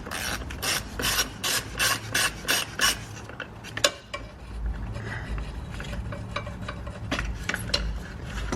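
A wrench works the 10 mm battery terminal nut on a 2014-2018 Mazda 3, fast repeated ratcheting scrapes in a regular rhythm for about three seconds, followed by quieter clicks, rubbing and handling of the terminal.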